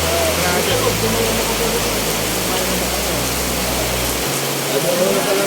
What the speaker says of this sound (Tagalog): Inabutan na po ng malakas ulan